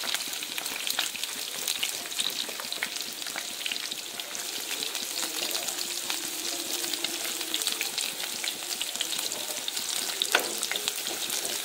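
Onions frying in hot oil: a quiet, continuous hiss and crackle close by with faint occasional stirring taps, and no one speaking.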